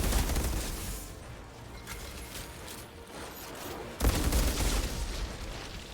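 Gunfire crackles during play of the shooter game Outriders, a dense, continuous rattle of shots and mechanical clatter with a sharp, louder burst starting toward the end.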